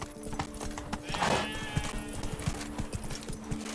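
A horse in The Witcher 3 video game gallops with a steady, rhythmic clip-clop of hooves, and a short whinny rises partway through the hoofbeats.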